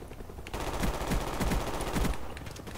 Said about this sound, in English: Literally shooting at him.